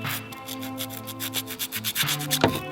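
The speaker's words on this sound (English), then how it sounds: "I'm just using some sandpaper and I'm sanding off the corrosion before I crimped them together" Sandpaper rubbing back and forth over old corroded wire ends, a close, steady scratchy rasping in short uneven strokes, with tonal hum running underneath.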